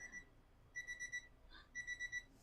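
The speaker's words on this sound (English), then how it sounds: "Turn off the beep." A kitchen appliance emits two runs of four short, high electronic beeps with a brief pause between them, clear and moderately close in a quiet room.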